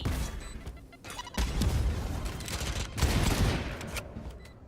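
Rapid gunfire from a Valorant esports match at VALORANT Challengers EMEA, loud bursts of shots firing back to back and overlapping throughout, with dense crackling volleys and no talk.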